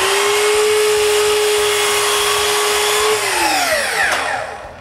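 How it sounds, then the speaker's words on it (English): An electric miter saw whines loud and steady for about three seconds as it cuts window frame wood in a workshop, then the motor winds down and fades with no talking. "So she begs me to buy an electric miter saw"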